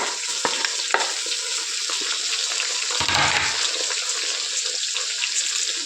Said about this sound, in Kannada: ಇವಾಗ ಕರಿಬೇವಿನ ಸೊಪ್ಪು ಹಾಕ್ತಾಯಿದ್ದೀನಿ. ಸುಮ್ಮನೆ ಎಲ್ಲ ಸಿಡಿದು ಬಿಡುತ್ತೆ ಅಂತ ಇವಾಗ ಹಾಕ್ತಾಯಿದ್ದೀನಿ.